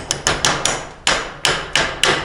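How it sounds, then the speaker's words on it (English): A hammer strikes a plasma-cut metal piece to knock off dross, eight sharp metallic smacks in quick irregular bursts, close and loud. "if you just kind of smack the dross, that comes off of there"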